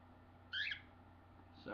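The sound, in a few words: pet bird calling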